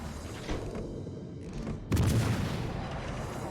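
A battleship being destroyed in the naval game World of Warships Legends, heard as rumbling booms and cannon-like blasts, with a heavier, louder burst about midway that keeps the dense roar going to the end.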